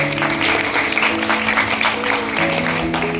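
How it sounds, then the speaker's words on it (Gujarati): A crowd applauds at a school enrollment festival in Bhavnagar. The clapping is close, loud and continuous, and a sustained musical or electronic tone sounds beneath it. "એની માટે તાળી પાડવા મિત્રો"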